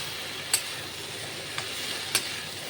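Boiled pumpkin pieces sizzle softly in a pan with ground cumin while a spatula stirs them, three brief scraping knocks standing out over the steady frying hiss.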